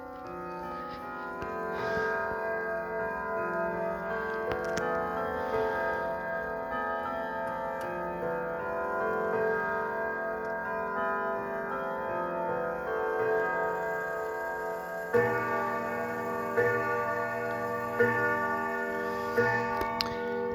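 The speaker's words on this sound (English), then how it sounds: "On the hour, it's going to chime 4 o'clock, because somebody wound the weights all the way to the top." A weight-driven Sligh triple chime clock, wound to the top, ticks steadily while its chime rods ring in layered tones before striking four o'clock, the chiming growing fuller near the end.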